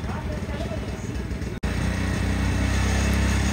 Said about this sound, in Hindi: ये इंजन का RPM सेट कर रहे हैं, मतलब रेस का जो है ना वो सेट कर रहे हैं